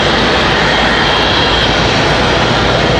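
An American Airlines A321 airliner's jet engines roar steadily at Raleigh Durham International Airport, a loud, continuous broadband rumble with no break and no voices over it.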